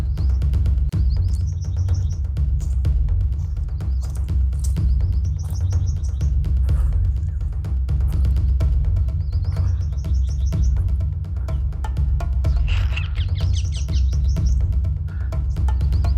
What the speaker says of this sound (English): These birds, see these? These are called angry birds.